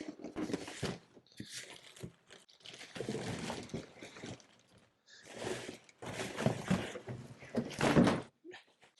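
Cardboard box holding Tesla Model Y floor mats being opened and handled, with bursts of crinkling, tearing and thumping packaging noise in uneven clusters, close and fairly loud, broken by short pauses.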